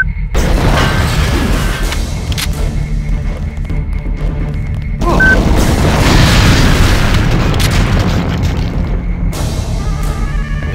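Rocket blasts in the Deus Ex video game at the Brooklyn Naval Shipyard, as two loud, booming explosions a few seconds apart, each with a rumbling, crackling tail over steady mechanical game ambience.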